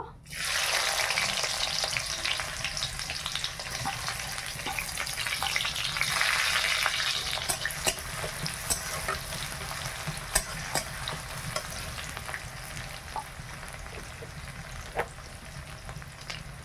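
Sliced onion dropped into hot oil with whole cardamom, cloves, cinnamon and cumin, a loud burst of frying that settles into a steady crackling sizzle with scattered pops and stirring, no voices.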